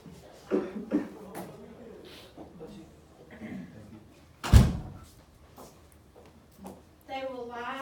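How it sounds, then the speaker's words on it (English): A classroom door is shut with a single loud thunk midway through, surrounded by a teacher's lecture voice and small room noises. "Let me shut this door."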